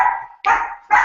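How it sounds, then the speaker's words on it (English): A dog barks in two sharp bursts about half a second apart, loud and close, with no talking over it. "The dog's freaking out, guys."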